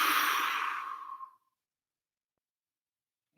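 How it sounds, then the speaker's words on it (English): A long, breathy exhale through an open mouth during yoga breathing practice, loud and close, fading out over about a second and a half before silence. "open mouth, exhale."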